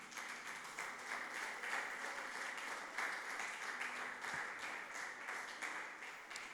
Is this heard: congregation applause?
yes